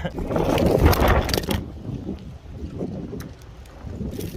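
Blustery wind buffets the microphone outdoors during a skateboard review, with a loud, rumbling roar that is strongest at first, then eases into a steadier, lower rush.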